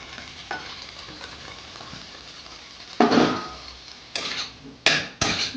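Fried cauliflower tossed into a pan with softened capsicum and onion and stir-fried: a quiet sizzle, then a few loud, close scraping stirs toward the end, with no voices.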